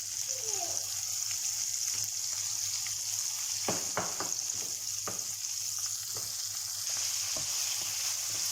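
Albanian-style liver pieces frying in a pan, a steady bright sizzle with scattered sharp pops and crackles, close and continuous with no talk.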